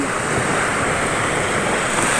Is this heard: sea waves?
yes